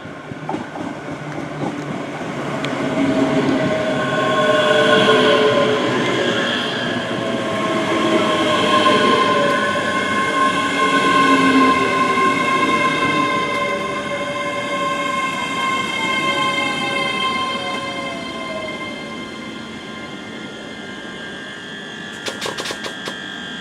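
A ScotRail train at Bellshill Station's two-platform stop rolls along the platform, its rumbling wheels and sustained squealing tones swelling and easing over some twenty seconds, with no voices.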